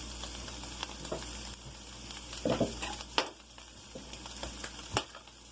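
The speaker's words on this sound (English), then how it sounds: "Keep stirring up the sauce mixture." A sauce mixture with cream cheese is stirred in a pan, a quiet steady sizzle with a few clinks and scrapes of the utensil against the pan.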